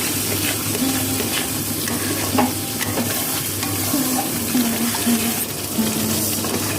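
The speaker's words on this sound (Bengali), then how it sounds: "মাংস ভাজার তেলেতে যে পেঁয়াজ রসুনটা ভেজে রেখেছিলাম সেটা কেটে আমি দিয়ে দিলাম।" Onion and garlic, fried earlier in leftover chicken-frying oil, sizzle steadily in a pan for a methi chicken dish, with stirring scrapes close up and no talking.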